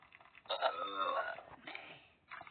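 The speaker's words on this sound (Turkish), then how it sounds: "Herkes her şeyi arka arkaya yedirsen geğiriyor." A cartoon character in the Toca Boca Jr game lets out a single drawn-out burp after eating, about a second long, clear and fairly loud, followed by a shorter gurgling tail.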